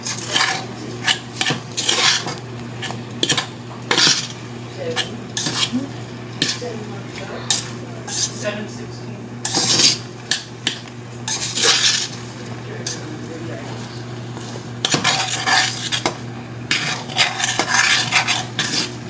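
Jamaican rice and peas cooked without coconut milk are stirred in a pot with a utensil, giving repeated close scraping and clinking strokes in uneven bursts under a steady low hum, with a voice talking over part of it.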